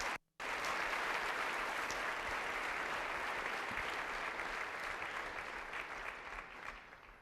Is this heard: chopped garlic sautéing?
no